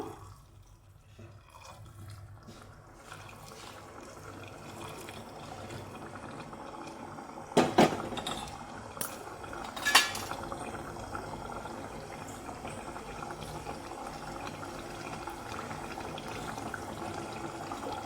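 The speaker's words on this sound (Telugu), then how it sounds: "పక్కన ఒక గ్లాస్తో వేడి నీళ్ళను మరిగించుకొని ఇప్పుడైతే ఇందులో వేసుకుంటున్నాను" Hot boiled water is poured from a glass into a mutton curry, with two brief splashing pours in the middle over a quiet background hiss.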